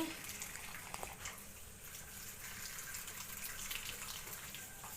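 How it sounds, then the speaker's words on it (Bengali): Leafy greens are washed under running water at home, a soft steady hiss of flowing water with faint splashes and handling sounds, low in level and fairly distant, without clear talk. "তো শাকটা আমি ধুয়ে নিচ্ছি"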